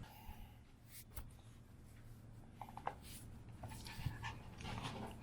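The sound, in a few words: dog panting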